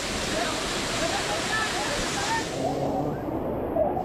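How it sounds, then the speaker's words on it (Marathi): Waterfall beside the road near Bhushi Dam in Lonavala, a steady broadband rush of falling water that stays loud and continuous throughout, with crowd voices faintly mixed into the wash. "तर तुम्ही बघू शकता हा एक वॉटरफॉल आहे."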